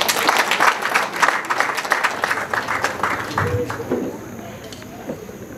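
Wedding reception guests applaud loudly with dense, close clapping that tapers off after a few seconds, while a voice speaks over the room.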